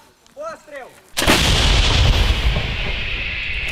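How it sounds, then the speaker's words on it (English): M777 howitzer firing from an artillery unit's position: after a second of faint chirping, one loud, close boom hits and its long rumbling echo fills the rest. "This is the artillery unit who are working with the M777s."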